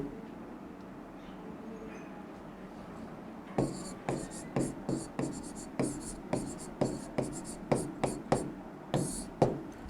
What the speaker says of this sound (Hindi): हिंदी में लिख देता हूँ